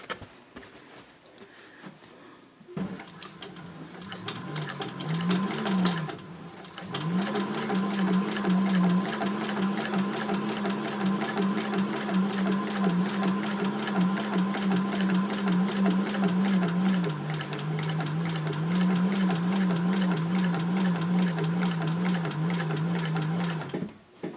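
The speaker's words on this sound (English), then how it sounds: "I don't want them to get caught in the line of stitching that I'm sewing right now" A sewing machine stitches an upcycled denim jeans tote bag, starting after a few seconds of quiet and then running in a fast, even, close mechanical patter with a short break before settling into long continuous runs.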